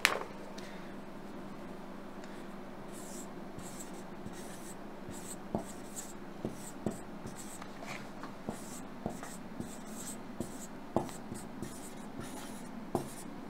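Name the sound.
writing by hand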